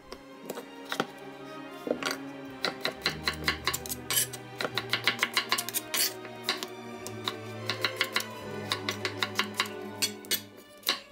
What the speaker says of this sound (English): cut them into small, approximately uniform pieces